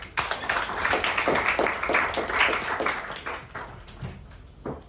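Applause from an audience, a dense run of overlapping claps that holds steady for about four seconds, then thins out to a few scattered claps before a final lone clap.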